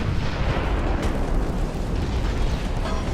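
A torpedo strikes a warship in the naval video game Ultimate Admiral: Dreadnoughts, producing a heavy, roaring explosion that rumbles on loud and continuous, with one sharper crack partway through.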